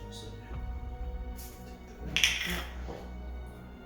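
Salt is ground in a hand grinder as a quick run of close, rhythmic ratcheting clicks, followed by a sharper crunch, while people talk over it.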